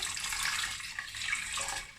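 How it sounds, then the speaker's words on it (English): Red elderberry liquid pours steadily into a pot as syrup is made, a continuous watery splashing stream lasting about two seconds with no talking. "I'm gonna pour this beautiful red liquid here"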